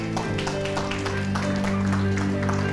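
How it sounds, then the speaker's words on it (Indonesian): An audience at an evening training meeting claps briefly, quick dense applause in a room with a humming tonal background and a voice briefly speaking over it. "Tepuk tangannya dulu."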